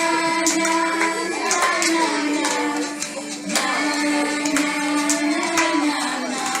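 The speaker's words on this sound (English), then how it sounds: "Clap my hands, clap down low, clap up high, and away we go." Hands clapping along to a children's action song at a graduation, crisp, repeated claps falling in rhythm over the sung melody and its accompaniment, fairly close and clear throughout.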